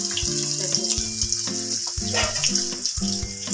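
Small onions drop into hot oil in a pan and crackle into a steady, close sizzle with bursts of spitting, while music plays underneath and no one speaks.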